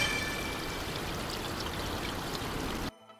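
Steady rushing water from a waterfall ambient sound in the video game Service Directive 7, pouring continuously and fairly loud for about three seconds before cutting off abruptly.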